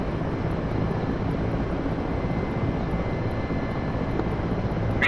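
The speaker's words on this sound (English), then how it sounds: "MI8 taking off from runway 10" A Mi-8 helicopter in the DCS flight simulator lifts off from a runway, giving a steady, loud, dense rotor and turbine roar that holds without a break for the whole stretch.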